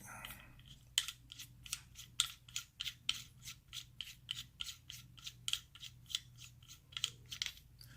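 A compensator is unscrewed from a Glock 19 Gen 3 pistol, giving a quick series of close, crisp metallic ratcheting clicks in an uneven rhythm.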